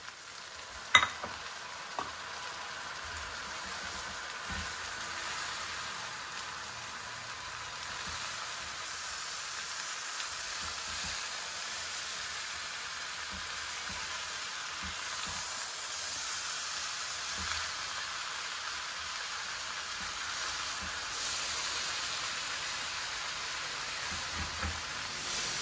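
Broad beans and tomatoes frying together in a pan give a steady, soft sizzle with a faint hiss, continuous and even with an occasional small clink early on; no one speaks.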